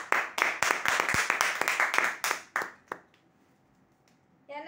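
Audience applause breaks out at a lucky-draw prize ceremony for a winner, with dense, close hand claps for about three seconds that then stop abruptly into near silence before a voice begins.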